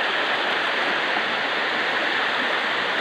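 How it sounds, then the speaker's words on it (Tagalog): A tall waterfall at Busay in Lopez, Quezon, pours into deep water, making a steady, dense rushing roar that stays loud and unbroken throughout. "Sa malalim na tubig, mataas na Busay."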